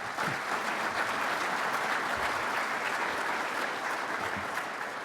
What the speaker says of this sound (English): Let's give them a nice round of applause to welcome them.